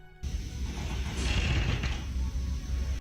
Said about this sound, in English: Residents have described hearing the building creak and groan as wind loads shift.